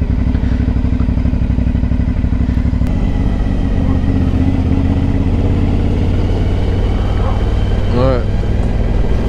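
Aprilia motorcycle engine roaring loudly and steadily close by, a constant throbbing drone with a brief rising whine near the end, while voices talk over it.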